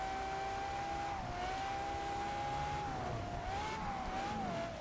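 Electric Porsche Taycan drifting in Test Drive Unlimited Solar Crown, a steady high-pitched motor whine that wavers slightly in pitch over faint tire and road noise, continuous and fairly quiet.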